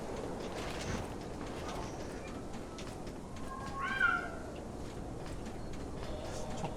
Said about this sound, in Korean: 저 고양이 소리는 뭘까?